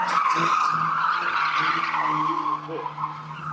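Stock car racing: a car slides out at the rear mid-corner, a loud tyre squeal over the engine drone for a couple of seconds before easing off, with some background noise.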